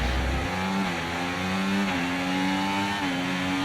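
F1 race cars in the video game F1 24 accelerate through repeated gear shifts, their high engine whine stepping up and down in pitch, loud and continuous with no talking.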